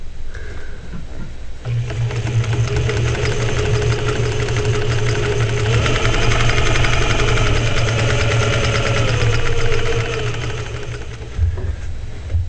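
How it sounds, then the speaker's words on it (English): A Pfaff 260 sewing machine stitches with a rapid, steady mechanical whirring and low motor hum, loud and close, running continuously for several seconds before slowing. "take a look and listen to how the machine sounds as you're stitching"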